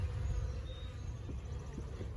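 Package of roughly ten thousand honeybees with a caged queen hums softly and steadily, a faint continuous buzz close by with a few brief louder passes.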